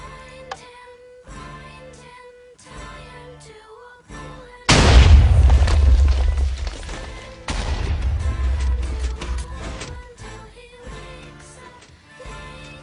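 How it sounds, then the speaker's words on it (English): A semi-automatic TNT cannon in Minecraft fires with a loud, deep booming blast that swells at mid-clip and rumbles on for several seconds, with a second heavy burst following, set between quieter stretches of background music. "So we go ahead and fire."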